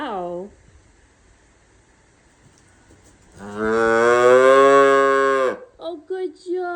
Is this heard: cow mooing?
yes